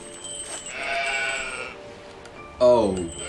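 Sheep bleating in the video game Old Man's Journey, a loud nearby bleat rising out of soft ambient game music and tones near the end.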